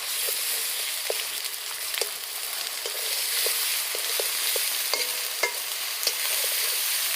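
Ginger-garlic paste fries with onion and green chilli in a pan, a steady close sizzle punctuated by regular scraping clicks of a spatula stirring the mixture, with no voices.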